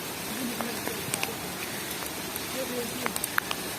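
Rain falling at a hill-station site near Pachmarhi, a steady soft patter with scattered sharper drops close by, faint and continuous with occasional voices in the background.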